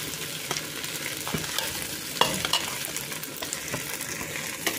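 Sardines sizzle and crackle in a very hot pan, a steady dense frying hiss with occasional sharper pops and stirring scrapes, close and continuous with no talking.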